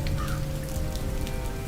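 Cold rain falls steadily outdoors, a dense and continuous patter on surfaces with no break over the short stretch and no voices.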